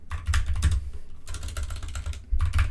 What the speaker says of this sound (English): This video is going to be just me messing up my typing, apparently.